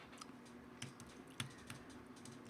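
Quiet, irregular keystrokes on a computer keyboard as a folder name is typed, soft clicks spread across a few seconds with no talking.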